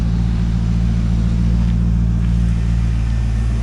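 A 2002 Chevrolet Corvette C5 with an LS1 V8 idles steadily, a loud, close, deep rumbling drone with strong low harmonics that holds even throughout, with no voices over it.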